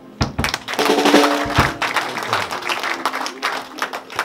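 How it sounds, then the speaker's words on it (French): Wedding guests clap together for a couple, a lively burst of close, uneven handclaps that continues for several seconds with some crowd murmur mixed in. "On acclame."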